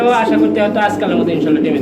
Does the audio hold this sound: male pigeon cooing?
yes